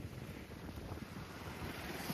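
Steady rushing water at a riverside near a farmhouse, mixed with breeze buffeting the microphone, forming a continuous broad wash of noise with no voices.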